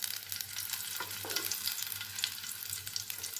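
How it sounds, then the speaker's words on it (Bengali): Dried and green chillies fry in hot mustard oil, giving a close, continuous sizzle with crisp crackles and a brief stirring scrape, quiet and steady, with no voices. "তেলটা গরম হয়ে গিয়েছে, তাই আমি এর মধ্যে ছেড়ে দিয়েছি কয়েকটা শুকনো লঙ্কা আর কাঁচা লঙ্কা।"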